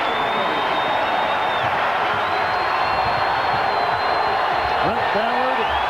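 A basketball arena crowd at an Iowa State Cyclones versus Kansas game in 2001, a dense, steady roar of cheering that fills the space throughout, with a commentator talking over it and a few sharp whistle-like tones.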